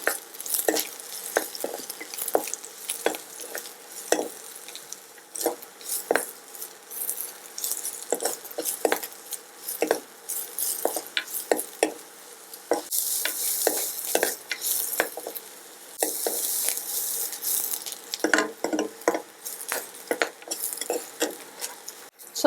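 Capsicum and onion frying in hot oil in a pan, a steady sizzle broken by frequent scraping and clinking as a utensil stirs against the metal, with occasional louder bursts of hissing.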